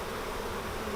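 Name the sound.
honey bees buzzing while being moved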